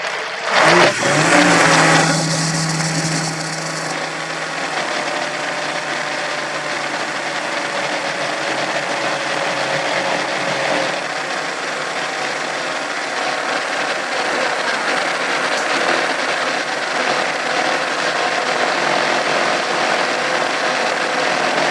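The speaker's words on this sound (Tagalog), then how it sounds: "Saksak ko muna na parang pag-blender tayo" A blender whirs as it blends oil for a vegan sushi bake, starting with a brief grinding surge and then running in a steady, loud, high-pitched drone that holds unbroken, with no talking over it.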